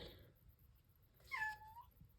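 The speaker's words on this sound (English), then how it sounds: "He said meow, which means hi in cat." A cat gives a single clear meow indoors, a short rising-and-falling call in the middle of an otherwise quiet room.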